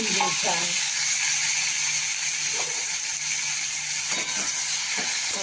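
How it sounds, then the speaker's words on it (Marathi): Tomatoes and green chillies sautéing in a small amount of oil in a hot kadhai, a steady soft sizzle running throughout with faint occasional stirring clicks, fairly quiet and close. "ह्या तेलामध्ये कमी तेलामध्ये आपण हे टोमॅटो आणि मिरची परतून घेणार आहोत"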